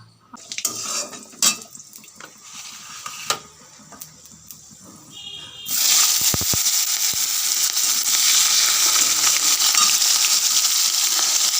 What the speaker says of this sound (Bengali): সবজিগুলো কেটে রেখেছে এগুলো এখন সবজিটা রান্না করবো